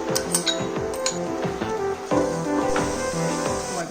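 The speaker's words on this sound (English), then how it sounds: "Now let's stir fry." Vegetables stir-fried in a pan for a Korean vegetarian lunchbox, with a steady sizzle under repeated clinks and scrapes of a utensil against the pan, close and busy throughout.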